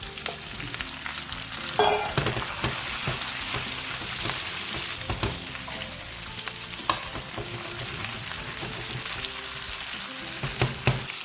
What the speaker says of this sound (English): Now we can add the potatoes and allow them to cook for about a minute